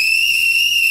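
A conductor's whistle at a small train station gives one loud, shrill, steady blast held for about a second.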